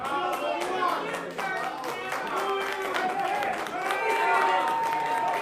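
A crowd claps and cheers in a steady, dense burst of applause that carries on throughout, with voices mixed into the noise.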